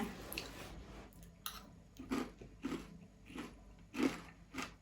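Crispy fried chili peppers crunched in bites served with a spicy salmon salad, several loud, close crunches and chews spaced about half a second apart, alone without talk.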